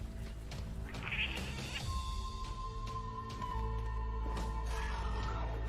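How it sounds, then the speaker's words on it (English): Cat meows in a video game trailer featuring a playable cat alongside a samurai, a few short mewing cries over a steady music and effects bed. "Playable cat!"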